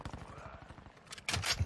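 Bursts of automatic gunfire in Call of Duty: Modern Warfare 2 multiplayer, a rapid rattle of shots early on, then louder, closer blasts near the end, with a player's voice faintly in the mix.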